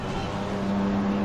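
A 2022-spec BMW M3 GT3 race car in a racing game at Bathurst gives a loud, steady engine drone, its pitch rising slightly over a short burst.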